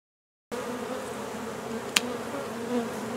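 Steady buzzing of many honey bees during a transfer from a 5-frame box to a 10-frame hive box, a continuous low drone close by, with a brief sharp click partway through.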